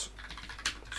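Fingers type on a computer keyboard, a quick irregular run of light key clicks close by, with one sharper tap near the end and no voices.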